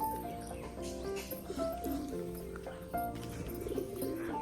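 Pigeons, including a rock pigeon, cooing at a village loft, with soft low calls repeating under a busy, cluttered background of other faint sounds and no clear talk.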